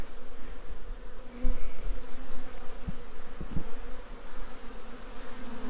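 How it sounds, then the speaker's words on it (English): A steady insect buzz hums throughout, several honeybees droning close by, with a few brief low thumps and knocks scattered in the middle. "Oh, there's a few bees around it."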